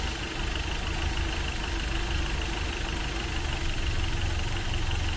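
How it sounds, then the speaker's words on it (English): A Toyota 22RE engine with its timing turned retarded idles rough, a faint steady mid-pitched running noise with slight uneven stumbles under a constant hiss. "you're going to hear the engine start to stumble and run kind of rough."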